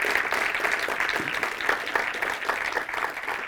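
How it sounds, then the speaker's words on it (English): Steady applause from an audience fills the whole stretch, dense clapping at an even level with no voices standing out. "So please give a round for our panelists."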